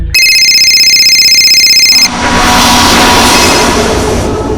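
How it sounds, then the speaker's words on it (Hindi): A home telephone rings with a steady electronic trill for about two seconds and then cuts off, leaving a loud, hissy line noise for the rest. "और आखिरकार भावेश का फोन फिर बजा।"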